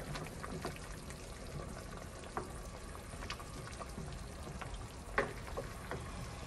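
A pot of pumpkin stew with sweet potato bubbles and simmers while a utensil stirs through it, with scattered soft clinks and scrapes against the pot's side.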